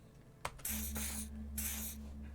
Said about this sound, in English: He douses you with the odd-smelling spray